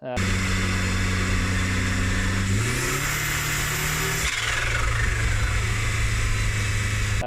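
A Commaero car accelerates hard in second gear, its engine note climbing loud and close through the revs with a shift-like step midway, then pulling strongly again; no one speaks over it.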